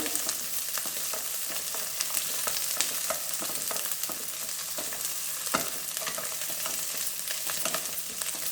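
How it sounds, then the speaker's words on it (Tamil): Onions sautéing in a pan for appalam gravy, a steady soft sizzle with scattered clicks and scrapes of stirring throughout, no talking. "வெங்காயத்தை போட்டு கொஞ்சம் வணக்கி வச்சுக்கலாங்க."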